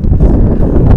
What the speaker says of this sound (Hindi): वो तो बड़ी ठंडी हवा चल रही है